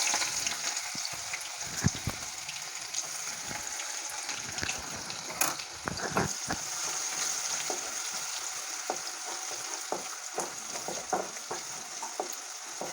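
Bay leaves and finely chopped onion fry in hot oil for egg curry, giving a steady close sizzle broken by frequent clatters and scrapes of stirring.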